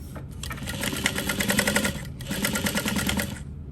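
Close, rapid stitching from a sewing machine working on a parachute knapsack, in two bursts of rhythmic needle chatter separated by a brief pause.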